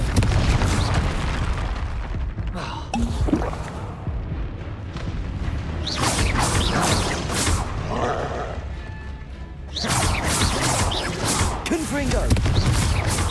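Loud fiery blasts from the Confringo spell in Hogwarts Legacy burst in close succession, booming repeatedly amid a busy combat soundscape.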